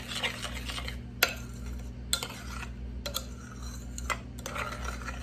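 A spoon stirring a hot butternut squash casserole mixture in a bowl: a few scraping strokes with sharp clinks against the side, close, over a steady background hum, no talk.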